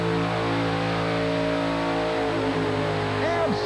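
Fuel-injected Chevrolet monster truck engine at an arena mud and monster event, held at a loud sustained high-throttle roar for several seconds, close and dominant, with a faint voice underneath.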